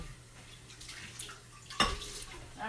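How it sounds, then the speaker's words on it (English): Tap water running into a blender jar as it is rinsed, a soft steady splash that swells into a louder gush near the end, close and alone. "I'm going to rinse the blender because we're going to now dump the milk back in"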